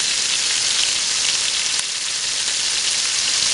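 Beef short ribs brown in a pot with a loud, steady, bright sizzle that holds evenly throughout, with no voices.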